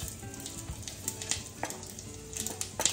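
Whole cumin seeds, cinnamon and cardamom sizzle and crackle in hot oil for tempering, a soft continuous hiss with small pops and a few utensil touches, close by.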